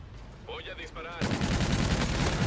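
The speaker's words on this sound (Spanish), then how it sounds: "Voy a disparar." Rapid automatic gunfire in Call of Duty: Infinite Warfare erupts loud and sustained after a brief voice speaking over quieter game sounds.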